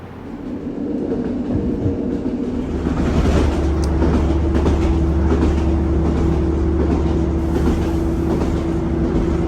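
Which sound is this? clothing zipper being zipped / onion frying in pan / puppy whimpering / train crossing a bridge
train crossing a bridge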